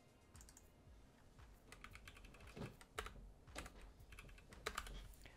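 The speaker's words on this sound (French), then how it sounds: "le, son du clavier te vient, vient perturber la voix" Rapid computer keyboard typing clicks along steadily over a faint background hiss, quiet and close, with no voices.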